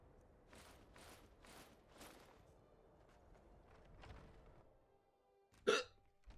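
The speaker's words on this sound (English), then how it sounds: "I got the hiccups now." A sharp hiccup rises abruptly near the end, standing alone after several seconds of quiet, low rustling in-game background sound.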